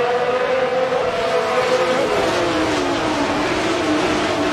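Formula Renault race cars in a racing video game roar off the line at the race start, engines rising and sweeping in pitch together as a loud, continuous pack.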